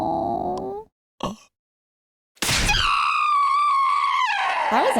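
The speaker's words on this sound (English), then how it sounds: "That was a nice scream." A character's scream in the video game The Hundred Line -Last Defense Academy-: a short bit of sound and a brief burst, a pause of silence, then a loud, sustained, wavering high-pitched screech that runs to the end.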